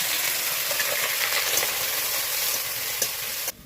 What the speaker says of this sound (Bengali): পেঁয়াজ রসুন আমার খুব সুন্দরভাবে ফ্রাই করে নেওয়া হয়ে গেছে